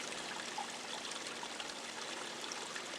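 Steady flowing water from a sparkling waterfall pool at a newly built home, a continuous soft rushing and trickling wash with no break, moderately quiet and heard alone.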